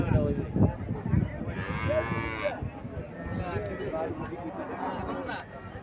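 Friesian dairy cow, four years old, lowing with a loud drawn-out moo close by on a Bangladeshi cattle farm, amid shuffling and background voices of people talking.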